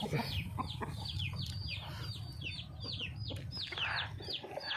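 Fighting roosters at a Thai game-fowl farm, including a prized bantam cock, cluck and call repeatedly in short sharp bursts, one after another over a steady low background hum.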